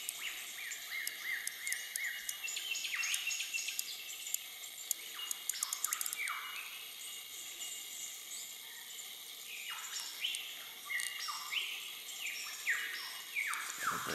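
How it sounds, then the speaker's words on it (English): Many birds sing and call in the Blue Mountains, a dense mix of chirps, trills and sweeping whistles overlapping throughout, with a steady insect-like buzz underneath; fairly faint and distant, no talking. "listen to all the birds"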